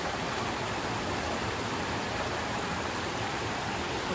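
Water pours steadily into a sinkhole and drains underground on the Collins Gulf Loop in South Cumberland State Park, a constant, full rushing hiss close by with no pauses or voices.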